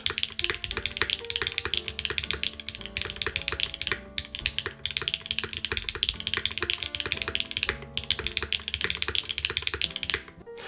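Rapid typing on a Gray Studio Infinite 70 keyboard with a Cherry spacebar, dense close-up clacks in a continuous stream with the occasional deeper spacebar thock and brief pauses.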